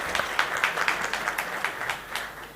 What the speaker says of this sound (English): And yes, definitely applause for Raj Kapoor.